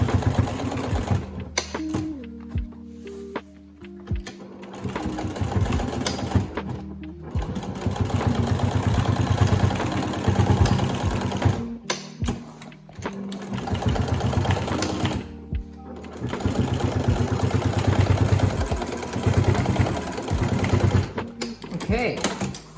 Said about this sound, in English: So I'm gonna sew that in. And whenever I do a pressure point, I always make sure to backstitch it a good amount.